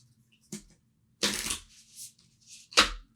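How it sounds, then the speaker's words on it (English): A discard pile of Disney Villainous cards is shuffled by hand in a few separate riffling bursts, close and fairly loud with quiet pauses between them and no talking. "I'm going to take my discard pile and shuffle it up."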